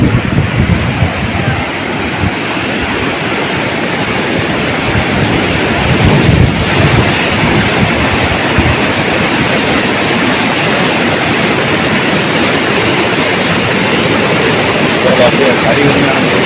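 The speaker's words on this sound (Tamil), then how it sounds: "தண்ணி வருது, தண்ணி போயிட்டு இருக்குன்னு பாருங்கள்." Water flowing steadily at a temple site, a broad continuous rushing wash that stays loud and even throughout, with a voice talking over it.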